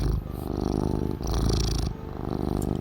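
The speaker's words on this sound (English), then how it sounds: "You hear the purrs of Happy Cat Lady?" A cat in Farming Simulator 22 purrs in a close, loud, rhythmic rumble, each breath in and out pulsing steadily with brief pauses between cycles.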